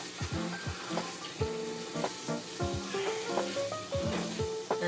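Bacon bits sizzling in a pan as turkey is cooked, a soft steady crackle with light stirring knocks, quiet and with no one talking.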